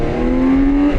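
BMW K 1600 GT six-cylinder motorcycle engine riding along at close range, a smooth loud steady drone with a clear sustained engine tone that rises slightly in pitch.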